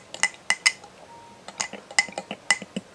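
A spoon stirs reconstituted freeze-dried peach cobbler, giving a series of light, irregular clinks against the dish, close and distinct, with no talking.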